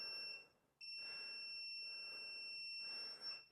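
A workout interval timer sounds its end-of-countdown alarm after a chest and triceps session: a sharp, loud electronic beeping tone held steady for several seconds, briefly dipping and returning, with no voices over it.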